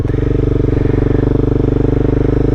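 A motorcycle engine pulls away close by with a rapid, steady throbbing exhaust beat, loud and continuous.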